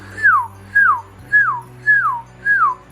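A person whistles five clear, identical falling notes in a steady rhythm, close and loud, beside a cockatiel's cage indoors, with a faint low hum beneath.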